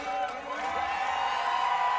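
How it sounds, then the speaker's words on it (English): A crowd cheers and roars steadily at a Strongman deadlift competition, a dense, sustained wash of voices that stays loud throughout, with a commentator talking over it. "crowd really enjoying what they're seeing from all the competitors"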